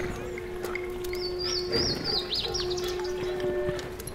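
Small birds chirp and tweet in a quick run of high, bright calls in the middle of the stretch, over a steady hum and low ambient background.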